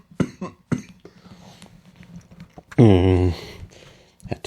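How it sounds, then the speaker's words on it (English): Sharp bursts open the clip, then a single strong, voiced cough-like sound lands mid-clip, loud and close, among scattered clicks during Roblox gameplay. "Had to let that stupid cough out."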